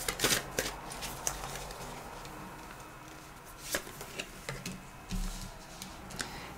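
Tarot cards shuffled and laid down in a reading, with a few crisp riffling bursts and scattered soft taps and slaps of cards being drawn, close and fairly quiet, no talking.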